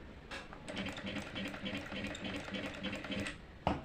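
A tailoring sewing machine runs steadily through practice stitching, a close, fast even chatter of needle strokes lasting almost the whole clip before a short sharp clack at the end.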